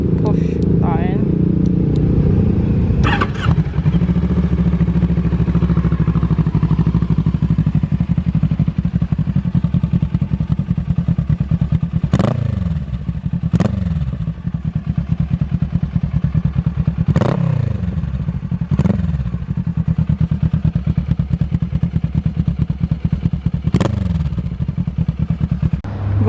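A Paton S1-R motorcycle with a Kawasaki engine starts and then idles loudly and steadily, with a few sharp blips of the throttle spaced through the run and someone talking over it.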